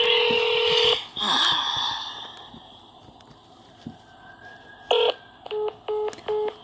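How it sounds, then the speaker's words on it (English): A phone call to a Veterans Affairs office goes unanswered: a sustained tone gives way to a short series of touch-tone dialing beeps in quick succession, heard clearly and up close. "This is what continued to happen when I called Nia."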